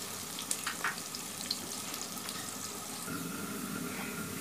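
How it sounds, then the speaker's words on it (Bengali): Chopped onions frying in a pan until golden, a steady close sizzle with a few light scrapes and clinks. "পেঁয়াজটা গোল্ডেন করে ভাজতে হবে।"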